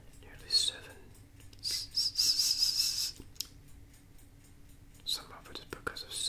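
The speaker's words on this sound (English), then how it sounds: "there's that squeaky noise, that whistle" A high, thin whistling squeak rides on an older person's whispered voice in a close, quiet ASMR setting, heard in brief bursts between soft breaths and mouth sounds.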